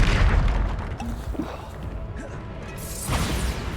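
A Bombarda explosion spell goes off in the Hogwarts Legacy video game, a loud crashing boom with scattered debris and whooshing effects rumbling through the whole stretch, then a second swelling blast near the end.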